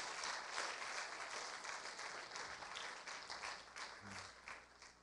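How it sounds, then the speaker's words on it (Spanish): A church congregation applauds, a continuous, fairly soft spread of clapping with a few voices heard under it. "Un aplauso a Grandma Ray"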